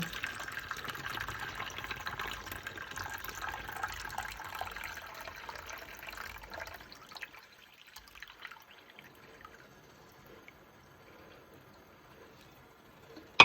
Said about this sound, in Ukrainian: зливаю воду повністю